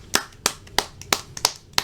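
Hands clap in a short, regular round of applause, six sharp claps at an even pace, close and alone with no talking.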